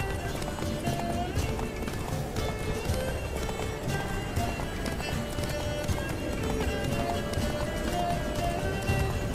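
Horse hooves gallop in a steady rapid rhythm in The Witcher 3, loud and close, with a voice talking over the running.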